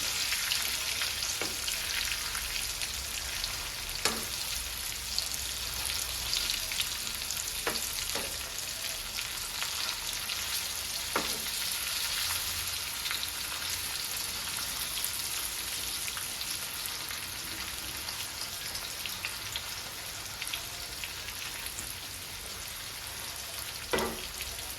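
Fish frying steadily in a pan of hot oil, a continuous bright sizzle with occasional sharp pops and crackles as the pieces are turned, no talk over it.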